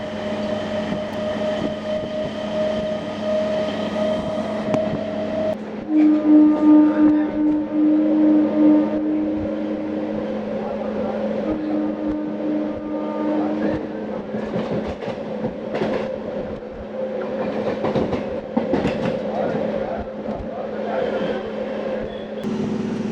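MEMU passenger train between Vijayawada and Ongole rolling along the line, a continuous rumble of wheels and carriage noise heard from inside, with tonal hums and rattling clatter throughout.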